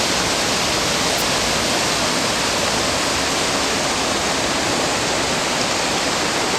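A waterfall near a glacier pours down at speed, giving a steady broadband roar of rushing water that stays loud and unbroken throughout, with no voices.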